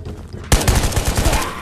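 Pistol fire in the VR game Ghosts of Tabor: after a brief quiet lead-in, a loud, rapid string of about eight close shots rattles off in quick succession.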